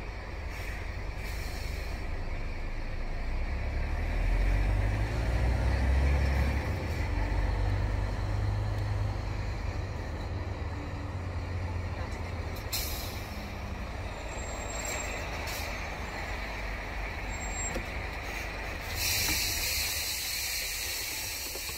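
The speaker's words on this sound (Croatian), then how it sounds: "samo da ovaj kamion pođe" A heavy truck idles and pulls away at a Swiss border transit crossing, its low engine rumble steady and close for most of the stretch, with sharp bursts of air-brake hiss breaking in near the end.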